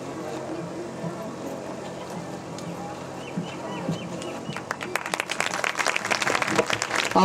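A crowd at a village welcome ceremony breaks into applause, building from a murmur into dense, sustained clapping over the last couple of seconds.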